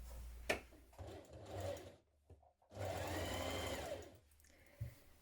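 A domestic sewing machine stitches a dart on the back of a dress, running in two steady motorized bursts with a brief pause between them, fairly close and clear, followed by a quieter tail of handling.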